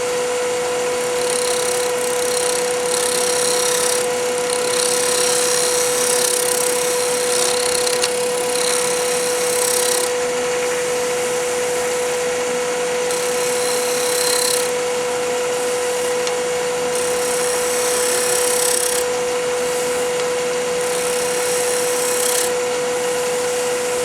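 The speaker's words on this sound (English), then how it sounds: "Bring in a scraper and work it a little bit." A scraper works an ambrosia maple jar turning on a lathe, producing a continuous loud, close scraping hiss over a steady machine hum, the cutting noise breaking off and resuming in short stretches, with no voices.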